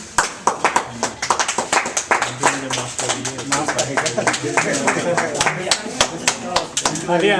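A small group of trekkers on the Saptkund Kuari Pass trek in the Himalaya claps for a team member, with sharp, distinct handclaps in an irregular run and voices talking over them.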